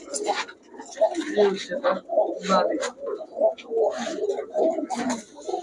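A Pakistani pigeon breeding pair, the female calling, gives repeated soft rolling coos close by under steady talk.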